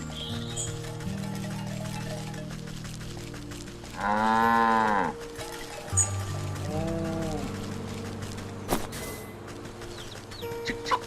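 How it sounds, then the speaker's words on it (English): Mooing of a cow in the video game Wytchwood, one loud sustained moo followed by a softer shorter one, set against looping game music with scattered clicks. "Hello, cow!"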